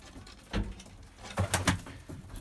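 Pigeons cooing at a loft, a few soft low coos in short bursts over a noisy background, near and moderately loud, with no speech.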